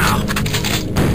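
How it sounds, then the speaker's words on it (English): Rocket explosion in the Shadow Warrior video game, a loud close burst of booming, crackling noise that fills the whole short moment. "Ducking under a rocket."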